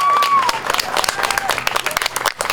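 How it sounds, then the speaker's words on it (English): Crowd at an outdoor pride festival clapping and cheering in a short burst, uneven patter of hands with voices mixed in, near and fairly loud. "have a round of applause!"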